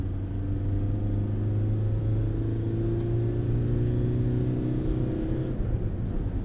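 A 2005 Seat Ibiza 6L with a 1.9 SDI 64 hp diesel engine accelerating, a steady close, loud engine drone whose low hum climbs slightly in pitch, with no talk over it.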